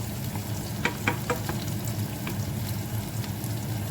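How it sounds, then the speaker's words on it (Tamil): Onions sautéing in a pan over medium heat for a Jaffna-style snake gourd and cabbage stir-fry give a steady, dense sizzle with a few soft stirring scrapes, close and continuous throughout. "வெங்காயம் சித்தமாக கொஞ்சம் வதங்கி வரட்டும்."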